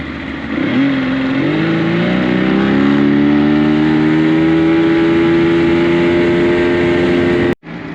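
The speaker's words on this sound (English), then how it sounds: "This engine's been asleep for way too long. By the time she opens up." A boat engine on a lake revs up hard and holds a loud, rising drone that climbs steadily in pitch as it accelerates close by, ending in a brief cutout.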